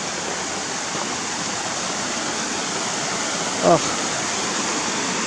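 Creek water rushing steadily along Little Elk Creek Trail, a loud, constant broadband wash filling the whole clip, with a brief spoken exclamation briefly rising above it.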